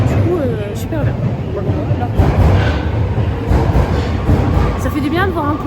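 A Beijing subway train is running, with a loud, steady rumble and rattling carriage noise, and people talk nearby over it.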